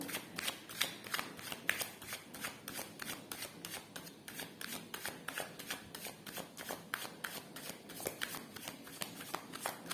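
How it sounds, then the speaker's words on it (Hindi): Tarot cards shuffled by hand for a reading, a fast run of crisp riffling flutters repeating steadily for the whole stretch, close but quiet, with no voice over it. "पहला शफल"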